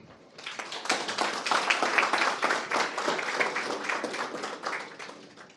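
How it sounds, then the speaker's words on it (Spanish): Audience applause at a legal lecture on case theory, a steady dense wash of many hands clapping that swells in and holds through, moderately loud and fairly near, with no voices over it. "pidiéndoles a ustedes un fuerte aplauso"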